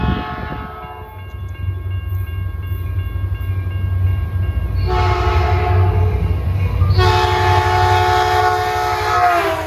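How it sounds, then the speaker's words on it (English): A Caltrain locomotive's Nathan P2 horn sounds near San Carlos over the rumble of the moving train, with a short opening blast followed by two longer, loud chords. "You can hear the Nathan P2 horn on the locomotive."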